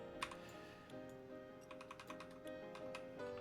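Fast, light clicking of computer keyboard typing, with irregular keystroke bursts close to the microphone over a steady hum and faint tonal background, no talk.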